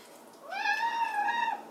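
A cat gives a single clear meow of about one second with a rising start and a drawn-out tone, close by in a quiet room.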